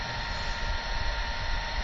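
The engines of an MD-82 airliner in the Flight Simulator 2020 video game give a steady, loud, broadband jet roar with a constant whine, heard alone for a moment.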